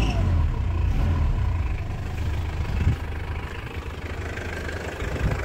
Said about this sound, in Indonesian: Ini ciri khas suara mesin diesel yang konvensional atau bospa manual.